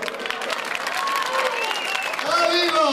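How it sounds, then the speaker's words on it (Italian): An audience claps in applause at a live event, a steady dense patter that swells slightly toward the end, with voices talking over it throughout. "Un applauso"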